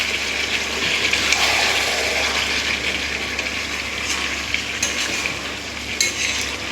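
About a kilo of chicken fries in a pan with two chopped tomatoes and plenty of chopped onion, producing a steady, dense sizzle with faint stirring scrapes throughout.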